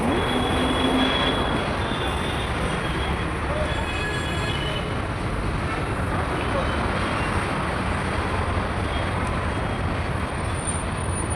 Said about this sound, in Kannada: ನಾನು ಹೋಗೋ ಅಷ್ಟರಲ್ಲಿ ಒಂದು ಟ್ರೈನ್ ರೆಡಿ ಇತ್ತು